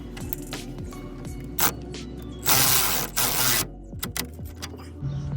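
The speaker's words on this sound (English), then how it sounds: "Gonna put a nut. Ratchet." A ratchet winds a nut onto the driver's side axle shaft of a 2008–2012 Honda Accord, giving quick mechanical clicks over a steady low hum, with a louder burst of activity in the middle and no voices.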